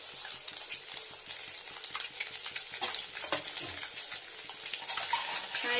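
Eggs seasoned with salt and turmeric fry in a pan while a spatula stirs and scrapes through them, giving a steady close sizzle with frequent clicking stir strokes throughout.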